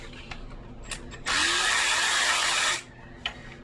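A power tool spins off an old, long-stuck bolt on a 1962 GMC dually truck in one loud, steady whir lasting over a second, with faint clicks before and after.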